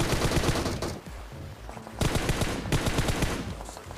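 Gunfire in the mobile battle royale game PUBG Mobile: loud bursts of rapid automatic shots with a short lull in the middle, then heavy sustained firing again with no talking.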